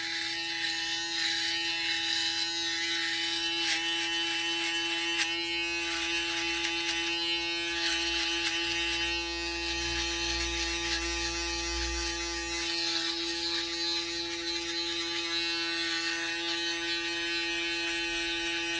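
A UFREE electric trimmer cuts hair with a strong, steady close-up buzz that holds evenly throughout, with no talking.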